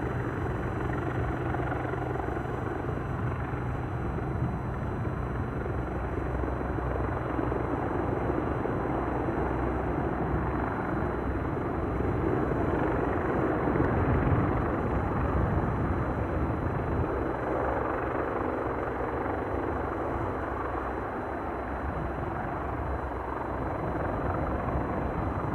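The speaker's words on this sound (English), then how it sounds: "The outgoing EasyJet to Gatwick is still taxiing out at a pretty pedestrian pace." An EasyJet airliner taxis out to depart Aberdeen Airport for Gatwick at a slow pace, its engines a steady, loud, broad roar that swells slightly midway and carries on without a break, with no talking.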